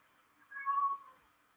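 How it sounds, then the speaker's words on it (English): A domestic cat lets out one drawn-out, faint meow in the background of a quiet indoor room, rising and fading within about half a second. "I don't know if you can hear my cat meowing in the background,"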